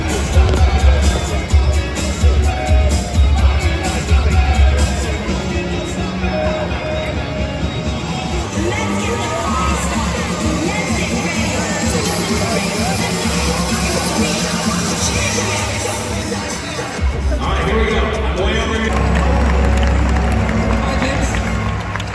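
A huge crowd at Star Wars Celebration Japan: constant babble of many voices and shuffling bodies in a packed convention hall, with nearby people talking over it and occasional louder swells.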